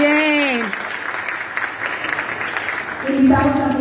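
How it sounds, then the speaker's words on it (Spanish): Audience applause at a youth council recognition gala in Belén, comuna 16, a steady wash of many hands clapping that runs through the clip, with a voice speaking over it at the start and again near the end. "Los invitamos también para la foto y un último aplauso para ellos."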